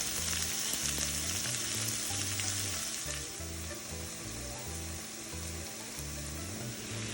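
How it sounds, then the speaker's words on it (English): Shrimp sizzle steadily in a pan with onions, a loud, constant hiss of frying with faint stirring and pan noises throughout, no voices. "So here it is. I have put the shrimp in a way where the shrimps are not overlapping with each other"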